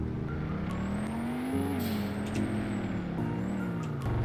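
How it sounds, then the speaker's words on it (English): Corvette V8 engine in the video game Car Crushers 2, a steady droning rumble with slow pitch swells as the revs rise and fall, loud and continuous with no talk. "Listen to that Corvette V8."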